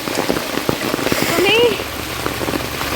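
Heavy rainfall keeps up a constant close wash of patter. A brief voice or whistle-like sweep cuts in partway through and then fades back into the downpour.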